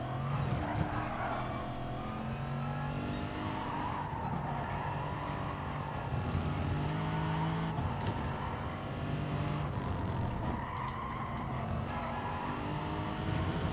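A Lexus GT3 race car in Gran Turismo Sport drones steadily at high revs through a race lap, its engine note rising and falling with gear changes and brief tire squeals, continuous and close.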